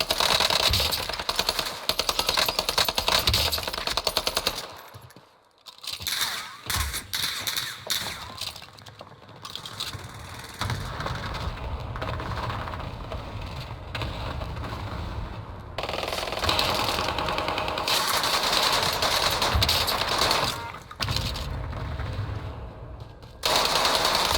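Dense video game gunfire from Call of Duty Warzone, bursts of automatic shots and impacts running almost nonstop with a brief lull near five seconds, loud and close.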